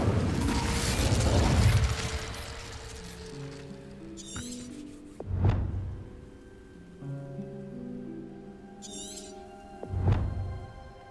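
In Hogwarts Legacy, the Incendio fire spell is cast with a loud whooshing burst, followed later by two sharp flaring pops, each trailed by crackle, set among soft musical tones.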